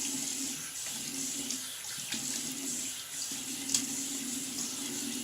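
Tap water runs into a sink while a man wets his face and an alum block after shaving, a steady close splashing stream broken by brief pauses where hands cup and move through it.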